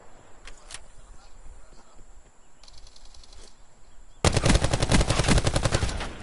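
Rapid automatic gunfire from a video game, loud and dense, bursting in around the four-second mark after quieter scattered shots and faint background sounds, continuing steadily to the end.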